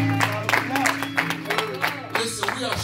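Congregation at a church service clapping hands in praise, a burst of scattered claps and cheers mixed with a voice speaking over the top.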